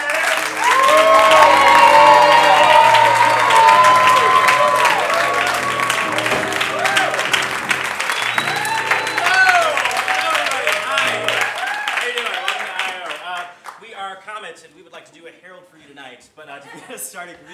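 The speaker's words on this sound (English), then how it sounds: "let's do one of these slow claps" Audience applause and cheering at a Chicago improv comedy show as performers are welcomed to the stage, a dense, loud wash of clapping and whoops that thins out toward the end, with voices talking over it.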